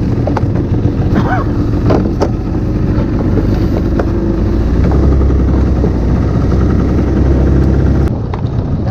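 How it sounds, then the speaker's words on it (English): A fishing boat engine drones steadily with a low rumbling hum as a net pays out, water and wind noise around it, running continuously until it eases near the end. "We just drive the boat and the net automatically run out."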